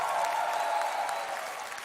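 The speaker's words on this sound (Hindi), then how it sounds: "प्लीज एक जोरदार तालियां डॉक्टर साहब के लिए" A comedy show audience applauds for a doctor, a brief steady patter of clapping that fades slightly toward the end.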